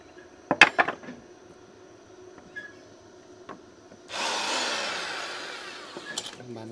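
A power drill runs during house roof construction: a couple of metallic clanks and knocks come first, then a loud, steady drilling whine lasting about two seconds before it stops.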